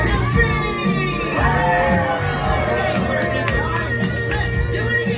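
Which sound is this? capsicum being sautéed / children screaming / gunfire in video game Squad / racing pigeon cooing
children screaming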